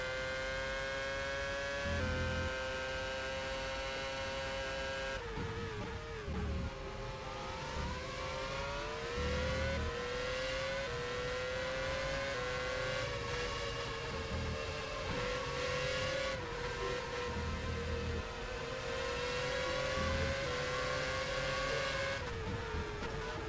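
Formula racing car engines in the rFactor video game during Malaysian Grand Prix practice: a continuous high-revving whine that rises and drops with gear shifts, loud and sustained, with no talk.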